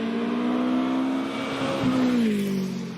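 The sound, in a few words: Brabham BT35 Formula 2 race car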